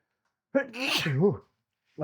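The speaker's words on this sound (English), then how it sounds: "Oh, I'm gonna sneeze." A single sharp sneeze, close and loud: a quick inhaled catch followed by a forceful burst, then quiet before a voice starts again.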